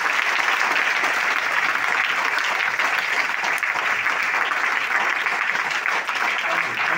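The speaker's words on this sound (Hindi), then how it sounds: "मैं चाहता हूँ अपने लिए जोरदार तालियां बजा दें" A seminar audience at a direct-selling motivational talk bursts into loud, dense applause that runs unbroken and close for several seconds, with no speech over it.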